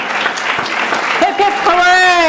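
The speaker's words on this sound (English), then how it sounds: "a rousing applause for the whole team" An audience at a city council candidate forum claps in a dense wash of applause, with a voice rising over it near the end.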